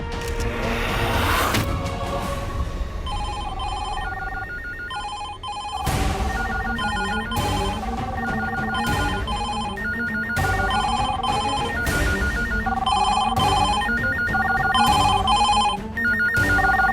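A telephone rings insistently in an office setting, its electronic ring repeating in steady patterned bursts over about seventeen seconds, loud and close with no talking.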